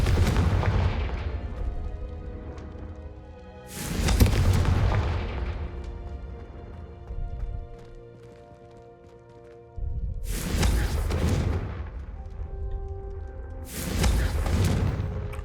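Confringo fire spell explosions in Hogwarts Legacy: four loud, booming blasts spaced a few seconds apart, each with a sharp onset and a long rumbling decay, separated by quieter pauses.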